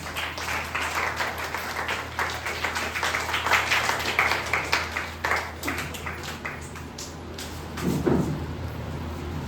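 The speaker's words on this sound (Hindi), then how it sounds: "तो उनके लिए एक बार तालियां बजा दें।" An audience claps for the secretary at a Teachers' Day celebration run by a charitable education project: scattered, fairly quiet hand claps of uneven rhythm with a few louder knocks, heard from some distance in a room with a low hum.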